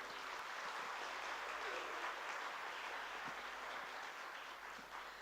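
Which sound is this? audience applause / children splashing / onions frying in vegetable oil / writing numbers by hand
audience applause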